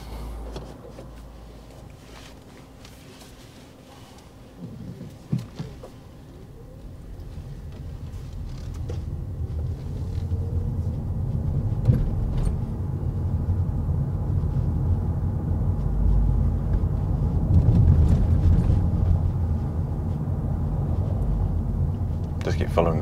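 Steady low engine rumble and road noise from a car driving on a UK road during a DVSA driving test, rising gradually in loudness as the car moves off, with a couple of brief knocks early on.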